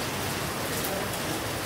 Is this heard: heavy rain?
yes